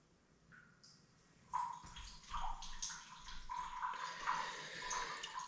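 Water is poured into a pot in a kitchen to cook pap, a steady splashing and gurgling pour that builds after a quiet start and continues close by.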